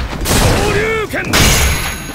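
A Hadouken fireball attack in the fighting game Street Fighter V: a loud shouted call with rising, swooping tones bursts over a blast of broadband impact noise, all within a couple of seconds.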